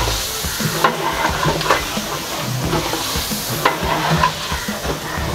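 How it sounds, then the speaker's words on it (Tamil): Ginger garlic paste fries with onions, cinnamon, cloves and spices in refined oil for a home-style biryani, a loud, continuous close sizzle broken by the scrape of stirring. "இஞ்சி பூண்டு போட்டு ஃப்ரை பண்ணுறோம்."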